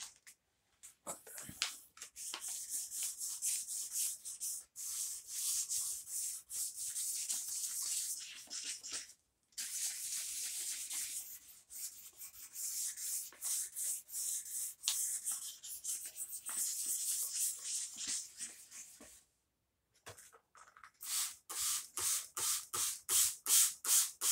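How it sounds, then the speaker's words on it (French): Hand sanding of primer on a car body panel, heard as rhythmic back-and-forth scraping strokes in long close, loud runs with brief pauses, ending in faster, sharper strokes. "quand vous allez poncer, lisser"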